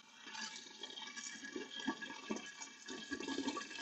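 Water running into a 25-litre boiler of a reflux still, a steady faint gushing and trickling pour that continues throughout.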